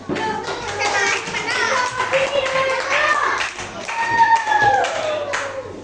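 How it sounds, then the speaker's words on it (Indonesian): Children clap their hands together in a primary-school maths classroom, a quick burst of claps mixed with young voices and chatter throughout. "Kita tepuk tangan dulu buat sana."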